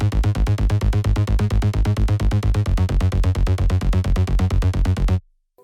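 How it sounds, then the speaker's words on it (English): A Rolling Bass Euro bass synth preset from the ANG pack pumps in a fast, even stream of punchy low notes, loud and relentless, then cuts off abruptly into silence near the end. "And then I added some Euro bass which sounds like this."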